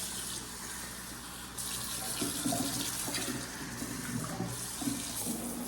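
Water running and splashing as a cooking pot is drained into a sink, a steady close gush with slight surges and gurgles, no voices.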